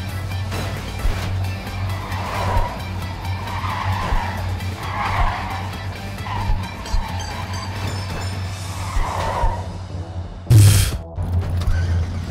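Engine rumble and repeated tire skids from trucks in the parkour game Clustertruck, a steady low drone with recurring squeals and a sharp loud burst near the end, no talking.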